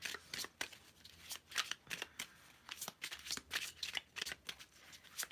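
Tarot cards are shuffled by hand in a quick, uneven series of crisp riffling bursts, close and fairly soft, with no talking.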